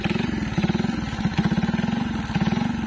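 A 1962 Suzuki MA 50cc vintage motorcycle engine idles close by, a steady rapid putter with even pulsing and a slight clattery edge, running alone without talk.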